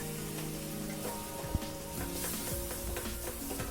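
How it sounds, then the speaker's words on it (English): Egg and milk cook in a buttered pan with a steady, close sizzle and faint crackle, plus one sharp utensil tap partway through. "Then egg goes in, and then the addition of milk in that, and I'm just going to cook it."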